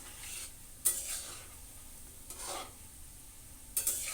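Palm-fruit fritters (taler bora) and malpoa frying in oil, a quiet, soft sizzle with a few brief scraping stirs of the pan.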